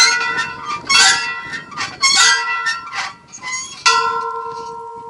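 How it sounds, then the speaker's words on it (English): An old schoolhouse bell on a rooftop, rung by a rope hanging down the front, near the Toroweap area of the Arizona Strip, clangs in several loud strikes with bright ringing tones that hang and decay between hits. "You can still ring the bell."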